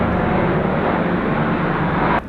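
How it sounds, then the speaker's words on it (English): Helicopter flying overhead near an airport, a loud, steady roaring engine wash filling the air before cutting down abruptly at the end. "that's a helicopter."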